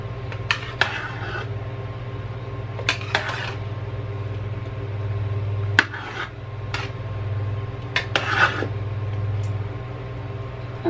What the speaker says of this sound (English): Gonna mix this up.